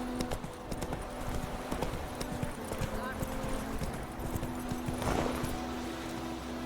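Roach the horse gallops in The Witcher 3, a rapid steady patter of hoofbeats over a dense rumbling background, with brief speech over it.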